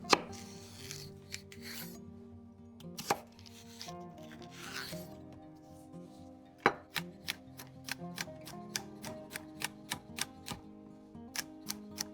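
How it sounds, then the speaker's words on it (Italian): A knife chops celery on a cutting board for a Bolognese ragù, giving a run of sharp, evenly spaced close taps that grow steady and rhythmic in the second half, with no voices. "Tagliamo il sedano."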